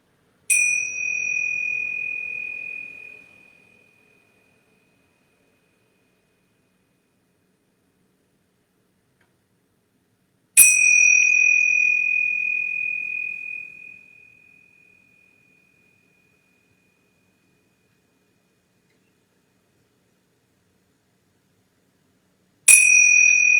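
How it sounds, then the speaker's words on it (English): Three bell strikes closing Shavasana in a yoga class, each a clear bright ding that rings on and fades over several seconds, spaced about ten seconds apart in otherwise silent surroundings. "We'll start the calling out process, waking up process by ringing these bells 3 times."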